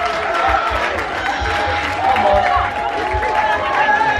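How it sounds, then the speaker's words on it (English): An audience at a spicy chilli eating challenge claps and cheers steadily in a crowded room, with a voice talking over the noise throughout. "Give him a huge round of applause."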